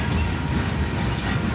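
An eastbound crude oil train led by Canadian Pacific locomotive 7015 rolls past close by, giving a loud, steady rumble of wheels and cars with no voices.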